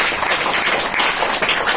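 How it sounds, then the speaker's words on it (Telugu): An audience at a Telugu church gathering breaks into applause, a dense, close burst of many hands clapping at a steady, lively level throughout with no voice over it. "Very good, clap కొట్టున్నారు."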